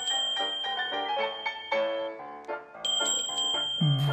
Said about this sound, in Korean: 수종사의 종소리 들으러.